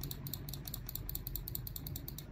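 The scroll wheel of a Fantech gaming mouse clicks in a quick, even run of small ratcheting ticks, close and quiet over a low background hum.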